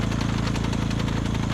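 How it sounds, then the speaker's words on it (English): A small generator engine runs steadily at low revs, a loud close, even rhythmic chugging hum with constant vibration throughout and no talk. "that little generator, I bet you that will run probably 10 hours on this"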